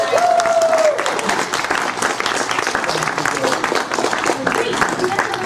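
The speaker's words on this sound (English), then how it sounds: "one more time, a round of applause for these two" An audience at a Sinister Creature Con fan convention panel for Better Off Dead (2017) applauds in a sustained burst of clapping, with voices speaking over it.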